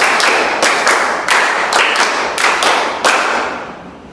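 Classroom clapping pattern in a micro-teaching lesson, a group clapping in rhythmic bursts of several claps, loud and close, with no talking.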